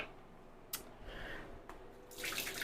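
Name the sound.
soaked red onions being strained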